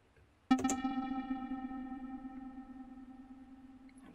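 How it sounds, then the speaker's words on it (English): A synth note sent through the reverb board of a Gotharman's Little deFormer 3 strikes sharply and then decays in a long, smooth reverb tail that fades over several seconds, with no speech. "So the decay is quite abrupt at the beginning, but then on the lower end, it just fades out quite a bit longer."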